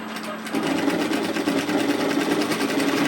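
A domestic sewing machine runs steadily through stretchy polar fleece on a yoke sweater, its rapid stitching a close, even whir that picks up speed after a quieter start and continues throughout.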